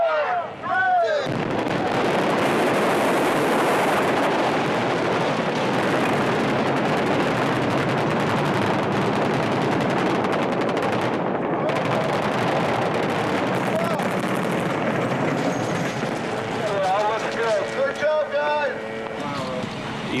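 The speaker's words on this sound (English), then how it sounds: "Even though it wasn't a real explosion, it certainly created the effect." A staged explosion effect on a Transformers film set produces a loud, continuous roaring blast that fills almost the whole stretch. It sounds dense and close, rumbles steadily and then tapers slightly near the end.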